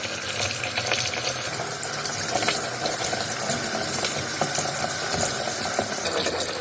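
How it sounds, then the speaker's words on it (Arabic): Running water pours from a tap into a container as salted fish is rinsed, a continuous splashing gush close by, with no voices. "برضو لسه الميه مش نضيفه، نطلق الميه ونحطها تاني"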